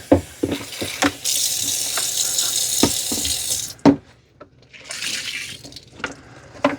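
Running tap water splashes into an O-Cedar mop bucket with knocks and clunks as it is rinsed out, stops briefly, then flows again with more rinsing splashes.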